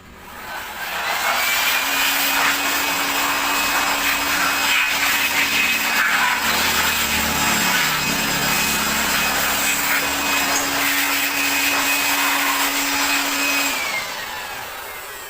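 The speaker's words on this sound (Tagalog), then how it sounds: "kailangan nyo ulit siya applyan ng blower" A steady, loud rushing whoosh of air from a blower in a Nissan Juke engine bay starts up, holds at an even pitch for over ten seconds with a faint tonal hum, then tapers off.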